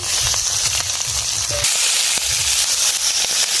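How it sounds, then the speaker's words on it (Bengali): Chopped onion dropped into hot oil tempered with dried red chilli, bay leaf, cumin and green chilli: a loud, dense, continuous sizzle with crackling spatters, close and alone. "কুচানো পেঁয়াজ দিচ্ছি"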